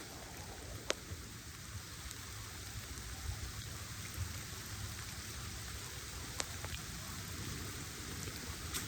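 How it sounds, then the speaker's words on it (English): Steady rain falls throughout a hike outdoors, a soft continuous hiss of drops on the ground and foliage with a few sharper nearby drips, and no one speaking. "Beautiful walk in the rain,"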